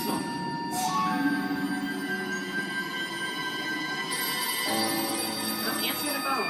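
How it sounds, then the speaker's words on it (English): A telephone rings repeatedly on a Doctor Who episode playing on screen, its steady electronic bell tones sustained throughout under a voice speaking over the broadcast. "How can it be ringing? It's not even a real phone."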